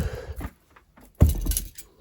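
A wrapped parcel of comics is shaken, giving two short bursts of rustling, thumping movement separated by a brief pause, close and fairly loud, with no talk.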